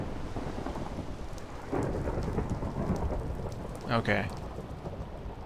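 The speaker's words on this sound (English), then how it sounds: "I know, chickens. It's a scary thunderstorm." A Minecraft thunderstorm with steady rain hissing throughout and rumbles of thunder swelling midway, while a player speaks briefly.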